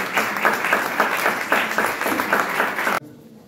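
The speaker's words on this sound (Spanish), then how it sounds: "¿Podemos aplaudir? Sí." An audience claps briefly at a book presentation, a short burst of loud, uneven applause that stops abruptly, leaving quiet room tone.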